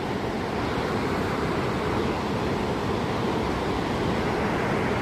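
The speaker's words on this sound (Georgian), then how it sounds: "ეს ჩანჩქერები მოდის, წარმოიდგინე, შტუგრა" Shtugra waterfall at the foot of a glacier in Svaneti, Georgia, roaring as a steady, dense broadband rush of falling water, loud and close, with no voices.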